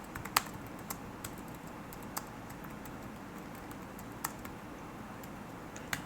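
Typing code on a computer keyboard, a steady run of soft close clicks with a few sharper keystrokes standing out, over a low room hum and no speech.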